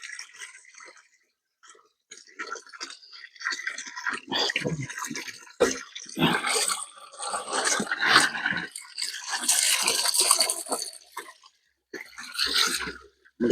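Spring water splashes and trickles into a small container outdoors in irregular bursts, close and fairly quiet, broken by short pauses.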